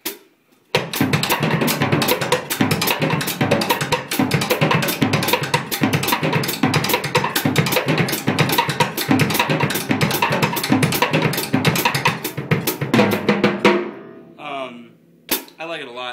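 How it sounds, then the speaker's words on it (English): Drum kit pounding out a fast samba beat, dense rapid strokes in a steady driving rhythm for over ten seconds, loud and close, then stopping abruptly with a final hit. "So the beat sounds like this. I'm going to play it kind of, you know, a little fast and all together"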